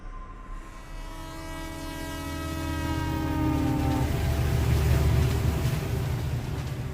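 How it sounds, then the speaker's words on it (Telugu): A train horn blares in a long sustained blast, then the rumble and clatter of a passing train swells and fills the scene, loud and close. "చెవులకి వెన్ను వణికేలా ట్రైన్ కూత వినిపించడంతో కళ్ళు తెరిచాను"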